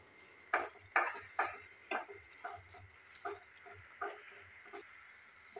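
Thickening Assamese rice sweet is stirred in a kerahi wok over a low flame, a spatula scraping in steady, evenly spaced strokes, about two per second, close and clear with no talking.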